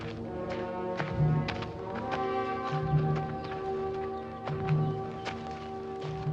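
Horse hooves clip-clop in a steady walking rhythm in a 1950s Western, soft and somewhat distant beneath a sustained orchestral music score.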